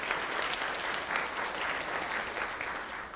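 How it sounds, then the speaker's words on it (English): A steady wash of audience applause for conference presenters, dense and even throughout, with no single claps standing out and no talk over it. "So if I could hear a round of applause for our presenters."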